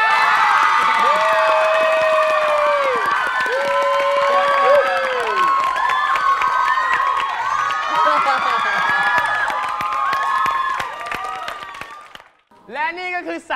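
An audience at a stage dance contest breaks into loud, sustained applause and cheering with whoops and shouts, fading out abruptly near the end.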